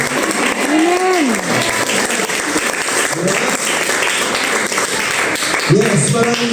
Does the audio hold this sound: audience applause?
yes